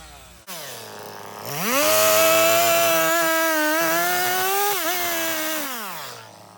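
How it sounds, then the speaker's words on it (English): A chainsaw starts up and cuts into a wooden bowl blank with a loud, close, sustained whine. The pitch dips slightly under load, then the saw drops back to idle and cuts out. "I'm starting with a chain next to the blank at the bottom, cutting at a slight angle, and then coming from the top to square it off."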